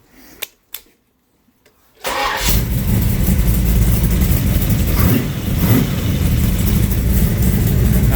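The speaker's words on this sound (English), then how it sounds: "So let's start it up." A 1966 Chevelle SS396 V8 cranks and fires after a couple of clicks and a pause, then settles into a loud, steady, rumbling idle close by with slight swells in the rhythm.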